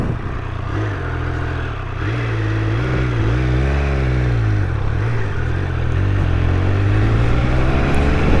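A brand new Triumph Speed Triple RR motorcycle ridden at steady, restrained revs, its mid-pitched engine droning continuously up close with gentle rises and falls as the throttle shifts, wind noise underneath, no talking.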